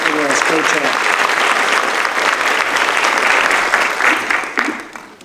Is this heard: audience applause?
yes